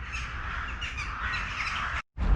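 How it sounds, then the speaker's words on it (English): A dense chorus of noisy birds, with crows cawing, fills the air in a Russian town, continuous and fairly loud, cutting off briefly near the end. "These birds are going crazy."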